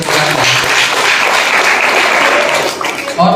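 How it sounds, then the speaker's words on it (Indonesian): A crowd applauds with dense, steady clapping that fills the room, then tapers off near the end. "Oke, tepuk tangan untuk kita semuanya."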